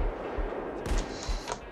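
Sniper gunfire in the heist shooter game Payday 2, a few sharp shots cracking over a busy background of game noise.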